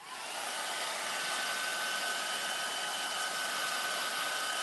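Steady close whoosh of a hair dryer drying stain poured over moldable wood pulp, switching on and holding a constant airy roar throughout, with no talking.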